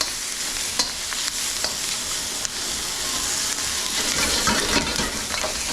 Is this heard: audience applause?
no